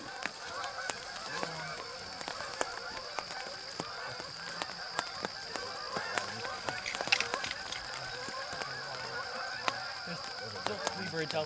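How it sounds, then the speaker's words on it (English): Wild geese honk repeatedly over a west branch waterway during a goose hunt, a steady overlapping chorus of calls from a flock coming in, with ducks nearby and brief low voices at times. "Geese, there's four coming in."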